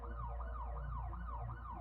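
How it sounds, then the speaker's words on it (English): An emergency siren wails in smooth rising and falling cycles, repeating steadily without pause, faint and somewhat distant with a low rumble beneath. "I can hear the sirens getting closer."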